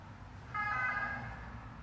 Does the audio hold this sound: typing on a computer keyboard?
no